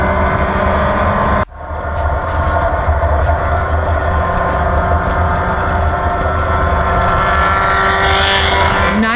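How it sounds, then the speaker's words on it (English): Engine and exhaust from a Mini Cooper race car at Willow Springs raceway, a loud, close, sustained drone with a sharp drop and gear change early on before the engine note builds again. "Nice exhaust note, Mini Cooper."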